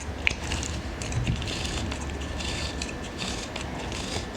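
A quilling kit's crimper tool being hand-cranked with a paper strip fed through, giving a steady faint mechanical ratcheting and gear-clicking, close up and continuous, with no talk.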